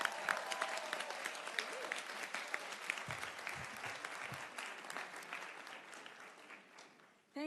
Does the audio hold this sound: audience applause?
yes